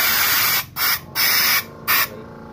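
An air compressor blows leftover water out of a radiator hose in several loud hissing blasts of air and spray, separated by brief pauses, close and with no talk over them.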